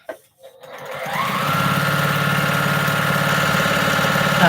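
A sewing machine runs steadily for a few seconds after a brief start, its rapid stitching hum close and continuous with no talking over it.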